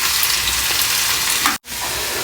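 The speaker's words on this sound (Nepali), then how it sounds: "र त्यसपछि हामीले मसला पनि एड गरिदिने र यसमा हामीले एकछिन भुट्ने" Garlic, ginger and spices frying in hot oil for pickle, a dense steady sizzle close up, with a brief gap near the end.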